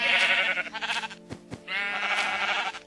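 A sheep in the Minecraft survival game bleats loudly and close, two long wavering calls separated by a brief gap with a couple of short thuds.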